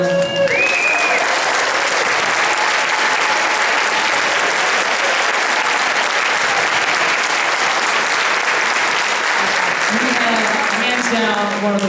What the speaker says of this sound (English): would you stand up please for a round of applause for our wonderful alumni?